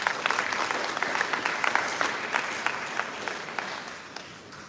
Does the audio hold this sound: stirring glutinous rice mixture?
no